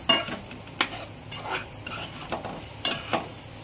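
Cabbage and potatoes with turmeric, salt and masala cook in a pan while a spatula scrapes and stirs in about seven uneven strokes over a soft, constant sizzle.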